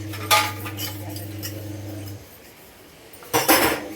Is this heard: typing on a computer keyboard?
no